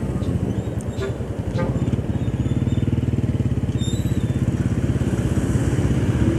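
Motorcycles idle and rev in slow, congested traffic at the entrance to a transport terminal, a steady near engine drone with rapid firing pulses that swells louder partway through, with no talk over it.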